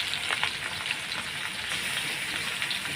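A ground ginger and green chili paste hits hot oil in a pan with spices, producing a soft, even sizzle and light crackle, fairly faint and steady for a few seconds with no talking.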